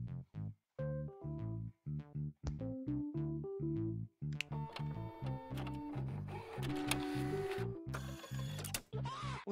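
A golden printer in the Homework Printing Simulator video game runs continuously, giving off repetitive mechanical whirring with stepped, tonal pulses and short gaps, growing busier and denser toward the end with no talking.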